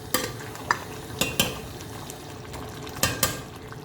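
Masala fries in oil in a pan while a spoon stirs it gently, giving several sharp scraping clicks of metal on the pan over a soft sizzle, close and alone.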